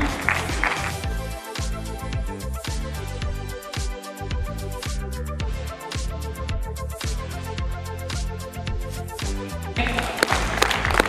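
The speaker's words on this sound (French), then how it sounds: "Est-ce que nous pouvons bien l'applaudir?" A conference audience at a concrete industry expo applauds steadily as a panelist walks up to the stage, a dense sustained patter of clapping that swells slightly near the end, with music-like tonal layers underneath.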